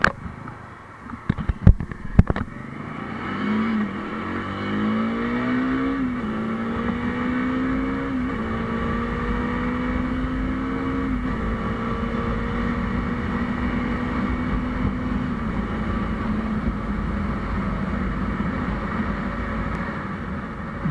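A Bajaj Dominar 400 motorcycle cruising on the Gurgaon highway, its steady engine drone rising in pitch through a few gear changes before settling into a continuous hum with wind rush, no voices.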